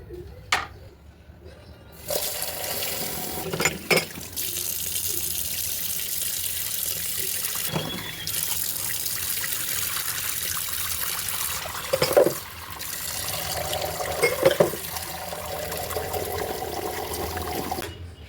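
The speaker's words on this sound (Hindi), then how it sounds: "यहाँ पे पालक मैंने काट ली थी और अब मैं इसको अच्छे से धो लूँगी" Chopped spinach is rinsed in a kitchen sink under a running tap, with a steady flow of water broken by louder splashes and gurgles as the leaves are handled. No one speaks.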